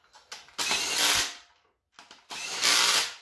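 Impact wrench fastening bolts during assembly of a Ford Ranger 4x4 build with a turbo 5.3 LS engine: two loud, close bursts of rapid hammering, each building and then cutting off, separated by a brief quiet gap.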